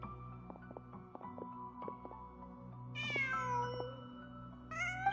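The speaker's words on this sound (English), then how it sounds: "Just a cat." Cat meowing in the video game Genshin Impact, two drawn-out plaintive meows over soft music with plucked notes, fairly close and clear, with no talking.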